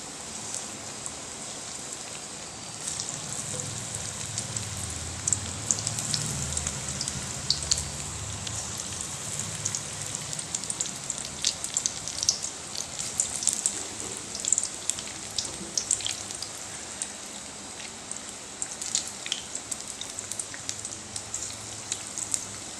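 Corn vada (makai vada) frying in hot oil, a steady close hiss and crackle of sizzling that runs unbroken for over twenty seconds, with no talking.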